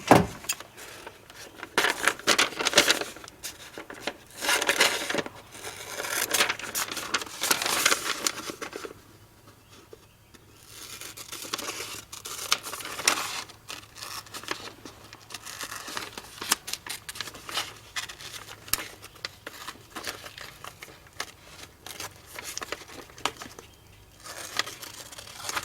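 Scissors snip through a white cowhide leather case side pattern in a long run of close, crisp cuts with paper-like rustling, a brief quieter pause midway, then more steady snipping.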